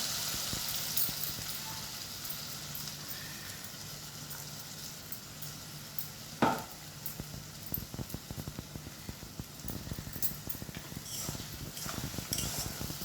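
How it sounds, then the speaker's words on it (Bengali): Coriander leaf paste sizzles softly in a pan with a steady low hiss, broken by a sharp scrape near the middle and a run of quick, light stirring clicks and taps toward the end. "এবার আমি এখানে ধনে পাতা বাটাটা দিয়েই দিলাম।"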